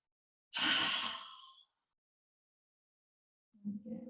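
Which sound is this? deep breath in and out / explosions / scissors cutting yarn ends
deep breath in and out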